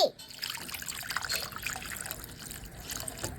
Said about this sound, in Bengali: চুলাতে কড়াই বসিয়ে দিচ্ছি, আলু দিয়ে দিচ্ছি, পানি দিয়ে দিচ্ছি